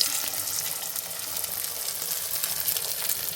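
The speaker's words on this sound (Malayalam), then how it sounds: "നമുക്കിത് പൊരിച്ചിട്ട് എടുക്കാം കുറച്ച് മുട്ട ഒഴിച്ച് കൊടുക്കാം" Egg appam frying in a pan, a steady close sizzle and crackle of hot oil holding at an even level throughout with no voices.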